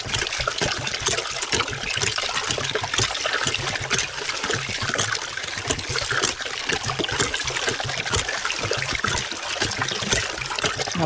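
Clean river water flows continuously, a loud close trickling and splashing rush that stays steady throughout with no other sounds.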